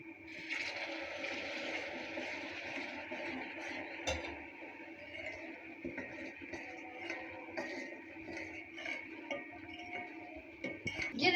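Sugar syrup poured into roasted, browned besan halwa in a pan, giving a steady watery sizzle and pouring hiss with faint clinks of utensils throughout, louder at the end.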